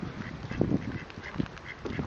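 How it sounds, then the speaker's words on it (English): Mallard ducks, adults and ducklings, on a small park lake in Bedford Park, giving scattered nearby quacks and soft calls over light outdoor background noise. "And mallard friends again. And the little mallards."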